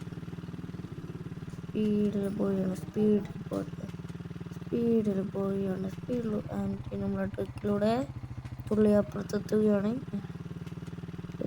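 A dirt bike in a Minecraft-like video game drones steadily at speed, low in the mix beneath nearly continuous talking.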